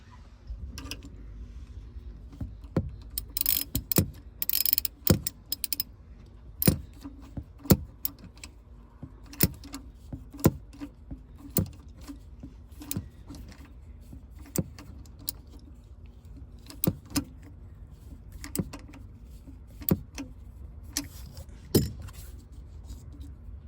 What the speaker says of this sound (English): I'll grab my 8mm socket and snug that up